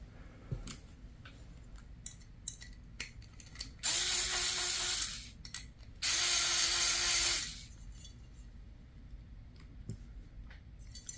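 A ratchet tightens a CQMF barrel nut during an M17 airgun build, two long runs of rapid clicking, each about one to one and a half seconds, close and fairly loud against a quiet workshop background.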